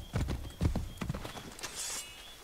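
Horse hooves in the video game Assassin's Creed III clip-clop in a quick, uneven rhythm close by, a short burst of steady trotting with no voices.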